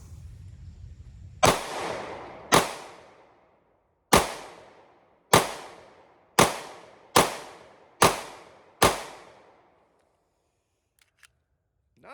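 A Remington R51 pistol fired eight times in an irregular string of loud, sharp cracks, each ringing out briefly, followed by silence and a couple of faint clicks.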